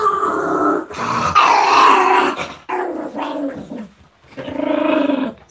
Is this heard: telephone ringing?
no